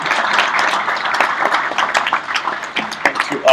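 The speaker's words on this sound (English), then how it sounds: "Applause for Regina." Audience applause at a winter school business session in a hall, a short burst of steady clapping from many hands, moderately loud and close, with no talking over it.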